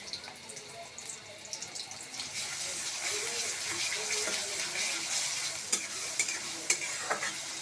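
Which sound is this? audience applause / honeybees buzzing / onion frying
onion frying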